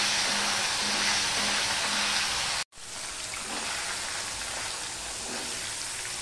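Small fish frying in smoking-hot oil in a wok, a loud, steady hiss and crackle that cuts out for an instant and then resumes at full strength, with no voices.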